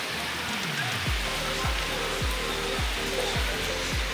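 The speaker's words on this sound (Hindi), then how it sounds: "अभी देख सकते हैं बहुत मज़ेदार बारिश हो रही है।" Steady, dense hiss of rain falls throughout, with a repeating low thumping pulse running underneath.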